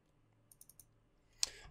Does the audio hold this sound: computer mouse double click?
yes